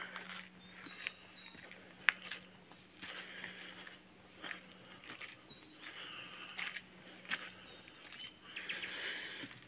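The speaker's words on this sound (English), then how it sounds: "Yeah, it's nice, you can hear the birds." Scattered bird calls and chirps drift faintly across a quiet, overcast lakeside at Lake Tinaroo, with light chirps recurring through soft background hush and no one talking.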